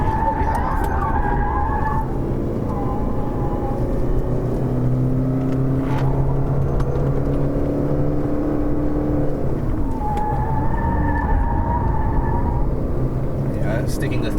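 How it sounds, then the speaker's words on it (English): A 2020 Subaru Crosstrek engine held at full throttle in second gear, a steady loud drone with rising and falling whine over road noise, while someone talks. "I'm going full throttle, second gear."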